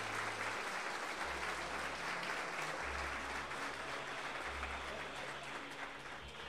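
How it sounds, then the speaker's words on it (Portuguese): A church congregation applauds strongly, steady dense clapping from many hands that continues evenly throughout, loud and full with no pauses or voices on top. "Vamos aplaudir o Senhor Jesus bem forte."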